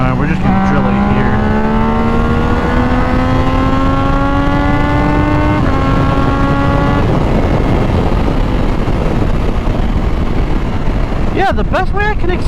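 A Triumph Daytona 660 motorcycle accelerates hard with a Moto Tune, its engine note climbing steadily through two gear pulls before easing into rushing wind, loud and close, with a sharp short burst near the end.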